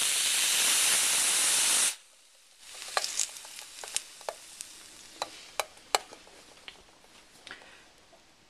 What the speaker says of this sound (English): So now I will now spray this.